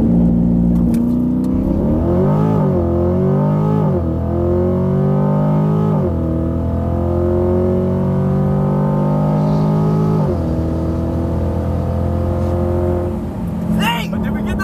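A C8 Corvette accelerates hard on a drag race run against an M3, its engine climbing through several gear changes, loud and steady from inside the car.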